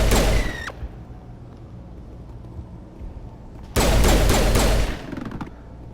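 Loud bursts of automatic gunfire in the Mass Effect game, one salvo at the start and a longer one from about four seconds, close and harsh, separated by a quieter stretch of low ambient hum.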